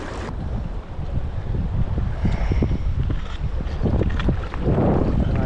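Wind gusts along a Central Pennsylvania river during fly fishing, heard as a heavy, blustery rumble buffeting the microphone with uneven surges. A wash of moving water sits underneath, and no one speaks.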